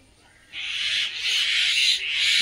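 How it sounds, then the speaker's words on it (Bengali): Pet birds at home break out in harsh, sustained screeching calls after a short quiet start, fairly close and loud. "নিজের পাখি ডাকছে"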